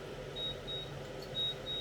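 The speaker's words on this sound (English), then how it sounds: "Let's kill the alarm." Kitchen timer alarm beeping in a home kitchen while marinated chicken flatbread cooks, four short evenly spaced high beeps over a steady background hum, no talking.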